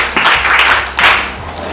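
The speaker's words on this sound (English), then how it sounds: "Clap for her" Schoolchildren clap together for a classmate during a lesson on menstrual hygiene, giving a short, dense burst of close applause that swells twice and holds steady throughout.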